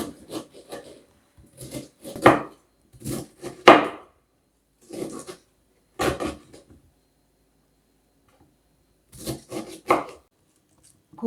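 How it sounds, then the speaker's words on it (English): A knife chops through a cauliflower head on a wooden board in short bursts of crunchy cuts, separated by quiet pauses. "Firstly, I'm going to chop this cauliflower"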